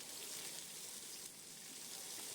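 Chopped onion sizzles steadily in hot oil with fenugreek seeds, a continuous close hiss with no talking.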